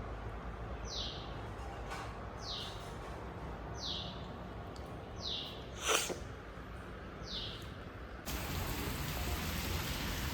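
Heavy rain pours down steadily, a dense hiss that surges louder near the end, with repeated short bird chirps and a brief snort-like burst over it.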